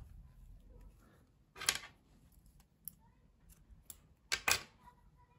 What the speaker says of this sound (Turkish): Pembe renkli ipliği kesiyorum burada.